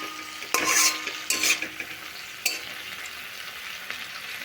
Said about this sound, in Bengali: আমি ঢাকাটা খুলে নেব আর একটু নাড়াচাড়া করে নেব।